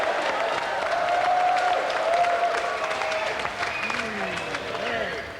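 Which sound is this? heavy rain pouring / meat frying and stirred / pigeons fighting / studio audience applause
studio audience applause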